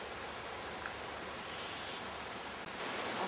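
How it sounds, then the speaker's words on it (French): A waterfall in a green forest in Polynesia, a steady broadband rush of falling water, constant and fairly close, with no voices. "Et voilà, une des cascades"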